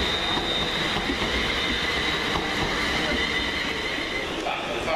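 London Midland passenger train pulling into Crewe station on the Liverpool Lime Street to Birmingham New Street service, a loud continuous rumble of wheels on rail with faint squeal, under a voice talking.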